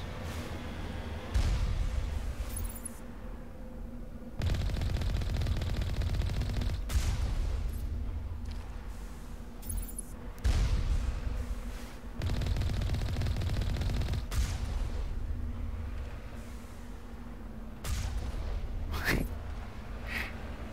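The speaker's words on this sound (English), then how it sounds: "Turrets." Mounted turrets in Mass Effect 1 hammer out sustained machine-gun bursts, each volley lasting a few seconds and separated by brief pauses, moderately loud and steady, with no talking over them.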